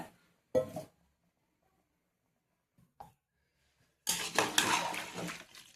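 A spoon scrapes and clinks in a pot of village-style country chicken curry, a few scattered stirs followed by a longer, louder burst of stirring near the end.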